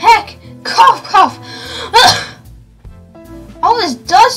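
Game character coughing from a burst of dust after a door is flung open, a few short rough vocal bursts with breathy gaps, close and fairly loud, with other voiced sounds mixed in.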